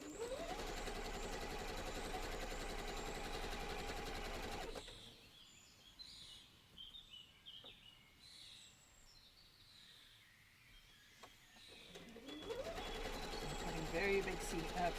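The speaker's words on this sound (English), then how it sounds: "Sewing very big seams in there." A sewing machine runs big seams through a dress skirt, a dense steady mechanical hum for several seconds that stops, leaving quiet handling noise and faint voice, then starts up again near the end.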